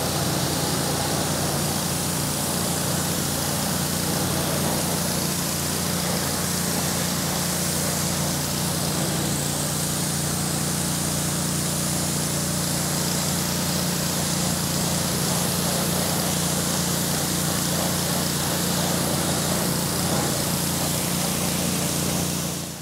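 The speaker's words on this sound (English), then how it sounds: "I'm gonna grab the pressure washer right now. I'm gonna pressure wash all this off" A pressure washer blasting a BMW wheel and tire, a loud, steady roar of engine and water spray that runs continuously and close up without a break.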